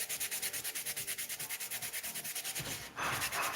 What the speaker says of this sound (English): I'm going to work on sanding some of these other areas.